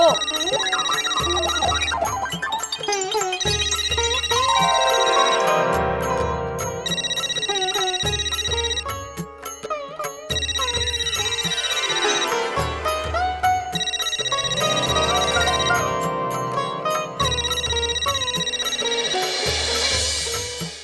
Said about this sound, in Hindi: अहो फोन वाजतोय